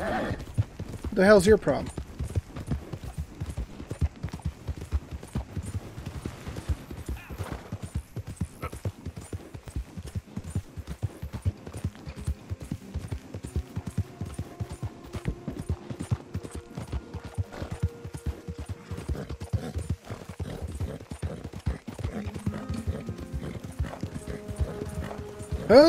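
Horse hooves pound in a steady galloping clip-clop throughout a ride in Red Dead Redemption 2, with a brief whinny near the start and a voice speaking over the hoofbeats.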